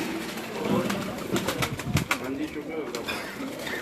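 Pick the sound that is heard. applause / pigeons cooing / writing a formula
pigeons cooing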